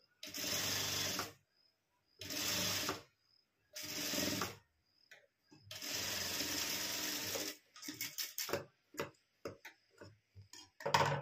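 Sewing machine stitching blouse fabric in several distinct bursts of about a second each, one longer run, then short ticking stops and starts, close up in a quiet room.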